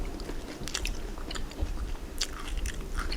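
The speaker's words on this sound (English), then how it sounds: "I hope you can hear the crunch." Crunchy bites into a street-food corn dog, a few sharp crisp crunches followed by close chewing, quiet and up close with no talking.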